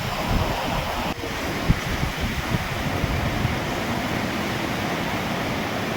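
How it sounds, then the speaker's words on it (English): Ocean waves crash on a Philippine beach during a typhoon, a dense unbroken roar of surf mixed with gusting wind noise, with no voices. "That is like so surreal to see these waves crashing."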